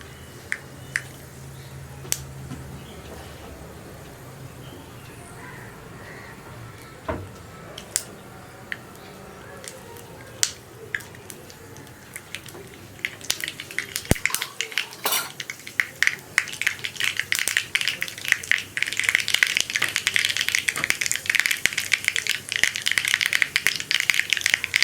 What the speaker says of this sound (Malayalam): കടുകൊന്ന് പൊട്ടി വരട്ടെ.